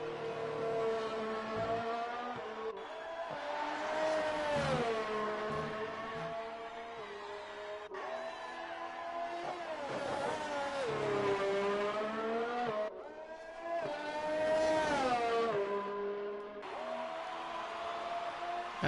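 Race car engines from a racing video game howl through rising and falling revs as one car closes on and overtakes a ghost car in an Australian Grand Prix, with steady loud engine tones and brief gear-change dips throughout.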